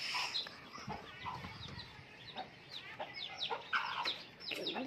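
Hen clucking loudly among chicks, repeated agitated clucks and squawks in uneven bursts, close by and fairly loud, with a little faint chirping mixed in.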